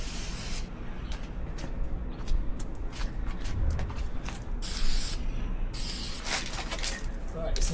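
Bursts of aerosol spray paint hiss in short repeated passes as camo is applied to a Double Eagle Noveske airsoft rifle, each spray loud and close, with quieter handling gaps in between.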